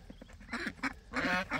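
Ducks quack in short, close, nasal bursts, several calls packed into under two seconds and growing louder at the end.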